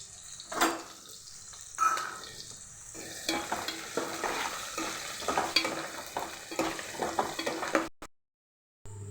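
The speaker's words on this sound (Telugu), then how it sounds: "ఆనియన్స్ ఈ విధంగా ఫ్రై అయ్యాక టమాటాలు వేసుకున్నాను" Onions fry in hot oil with seasoning for a cauliflower curry, a steady close sizzle broken by repeated scrapes and stirs of a spoon in the pan, then abruptly cut off near the end.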